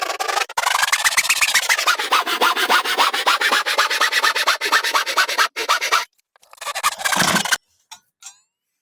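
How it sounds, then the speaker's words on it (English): A handsaw cuts out the tail of a wooden dovetail joint, a loud rasping stroke-by-stroke sawing that runs continuously, breaks briefly, then returns in a few short strokes before stopping. "Now last, cut out the tail of the dovetail,"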